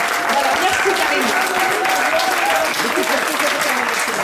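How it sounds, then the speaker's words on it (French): Crowd applause at an outdoor country music festival in the Gers, France, sustained loud clapping throughout with voices audible over it. "Et on peut l'applaudir. Très, très, très, très fort."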